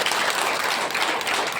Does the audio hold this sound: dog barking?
no